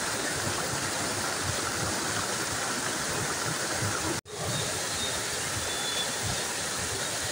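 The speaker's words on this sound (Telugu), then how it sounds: "ఈ నీరు అదే జలపాతం" Kasipatnam waterfall sends water rushing over rocks in a steady, dense roar close by, with one very brief break partway through.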